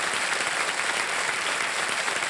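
A studio audience on the quiz show KBC claps for a guest, a dense, even roar of applause filling the whole stretch without pause or voices.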